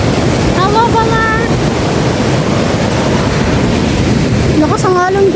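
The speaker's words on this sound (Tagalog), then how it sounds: "Lakas ang alon, guys." Strong surf rolls in steadily at the Baler surfing area in Aurora, a broad, loud wash of breaking waves and wind that fills the whole stretch, with brief speech-like tones rising over it near the start and end.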